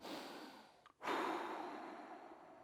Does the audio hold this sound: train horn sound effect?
no